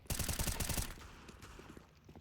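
Counter-Strike gunfire sprays through a wall in a rapid automatic burst of close, sharp shots lasting under a second, followed by quieter scattered clicks and distant shots.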